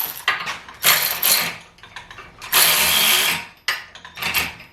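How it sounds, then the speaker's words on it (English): Power wrench driving a bolt into the subframe locking plate of a Mercedes W108, loud bursts of whirring and ratcheting separated by short pauses, close up, with no talk. "Your power wrench here."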